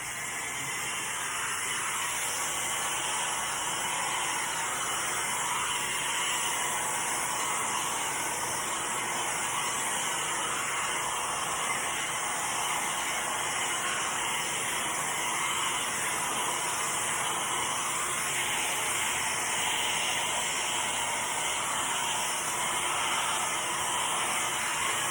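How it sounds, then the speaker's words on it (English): Hair dryer blowing on acrylic pour paint, a constant broadband whooshing hiss held steady and fairly loud throughout with no breaks or talking. "let me grab my hair dryer and we will see what happens."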